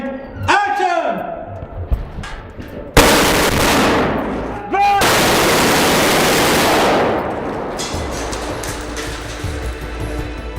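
Bursts of blank gunfire on a film set during a fight scene: a sharp report followed by loud sustained rapid fire that fades to a lower rumble, with voices speaking around it.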